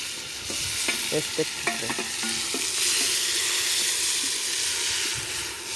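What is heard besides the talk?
onions and tomatoes frying in a pan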